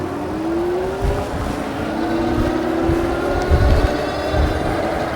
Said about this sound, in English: The motor is pretty quiet.